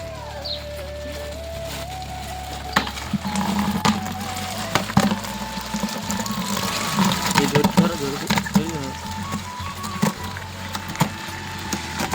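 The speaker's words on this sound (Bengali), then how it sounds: "কাঁকড়াগুলো জল বালতিতে ঢেলি আর দেখো তোমরা" Crabs are poured into a bucket of water with splashing, knocking and clattering shell sounds at close range. A voice talks over them throughout.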